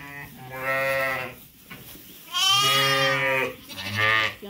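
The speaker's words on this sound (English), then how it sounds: "She's a sheep." A ewe on a winter sheep farm bleats loudly three times at close range, each call long, wavering and nasal, separated by short pauses with no talking.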